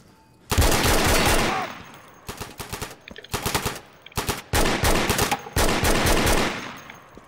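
Loud, close machine gun fire in the Insurgency shooter game, several long automatic bursts separated by short pauses, with rapid rattling shots and little else.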